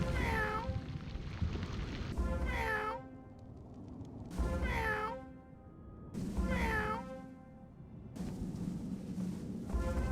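Four drawn-out cat meows from a video game, Wizard101, repeat at a slow, even pace over a low rumbling background, each rising then falling in pitch.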